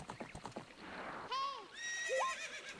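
A horse whinnies twice in Ocarina of Time, bright wavering calls rising and falling, following a stretch of talk and rustling at the start.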